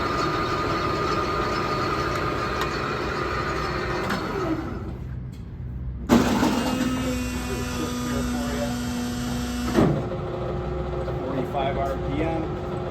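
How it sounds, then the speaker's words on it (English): A 15-by-30-inch LeBlond toolroom lathe runs with its carriage feeding, giving a steady mechanical hum and whine that shifts in tone midway, up close, with a voice speaking over it. "Feed the carriage towards the chuck."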